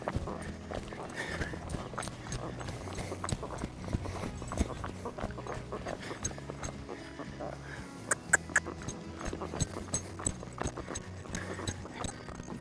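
A young horse being started under saddle lopes around a fenced pen, producing a faint, steady rhythmic patter of hoofbeats that continues throughout at moderate distance.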